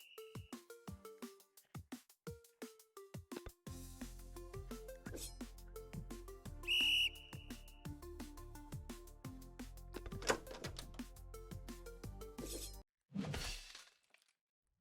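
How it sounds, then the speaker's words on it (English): A game jam entry built around freezing and whistling plays a brief, bright whistle tone near the middle, set among sharp plucked game notes and glassy clicks, with a short noisy burst near the end. "Oh, I see. I cannot press the buttons when I'm whistling."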